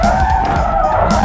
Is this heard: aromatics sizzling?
no